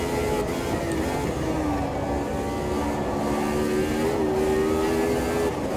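A Brabham BT49 race car engine in the racing game Automobilista 2, a loud steady high-revving roar with a sustained buzzing tone that shifts slightly in pitch, running continuously throughout.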